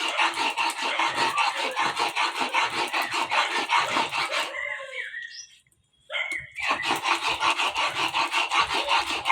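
Ginger and garlic are ground into spice paste on a grinding stone, a rhythmic rasping scrape of stone on stone in quick repeated strokes, loud and close, pausing briefly midway before resuming.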